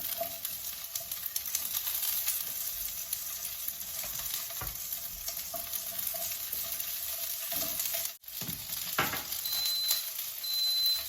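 Steady sizzling of asparagus frying in a hot pan with fried garlic and spring onion, with occasional stirring clatter and a faint high beep near the end.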